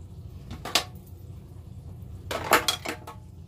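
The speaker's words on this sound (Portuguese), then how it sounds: "eu vou misturar nossa massa aqui" A spoon or whisk clinks against a bowl as gluten-free cake batter with yogurt is mixed, two short bursts of scraping and knocking separated by a quiet pause.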